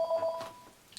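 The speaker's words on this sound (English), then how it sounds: "my phone's ringing" A phone gives a short, thin electronic tone, a brief beep followed by fainter chirps, quiet and alone in a still room.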